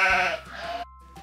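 A sheep or goat lets out a single short, loud, close bleat, quavering briefly before cutting off into near silence.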